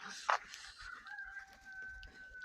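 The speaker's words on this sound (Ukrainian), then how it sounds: "Там качки, там цесарки, там курчата, голуби і все на купу." Faint farmyard poultry sounds from a village yard with ducks, guinea fowl, chickens and pigeons: a sharp cluck, then a rooster crows in a long drawn-out call somewhere in the distance.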